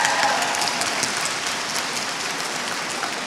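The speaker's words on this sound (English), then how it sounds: "Can we first have a round of applause for the first half of this panel?" A convention panel audience at Comic-Con Scotland gives a dense, sustained round of applause, a steady hissing wash of many hands clapping at even loudness, easily mistaken for rain, with no voices over it.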